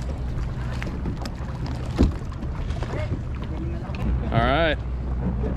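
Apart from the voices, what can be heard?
paddling a kayak on water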